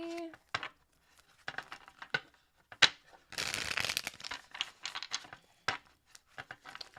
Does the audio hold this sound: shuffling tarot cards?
yes